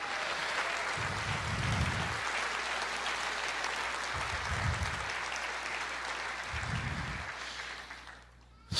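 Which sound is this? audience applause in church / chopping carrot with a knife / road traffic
audience applause in church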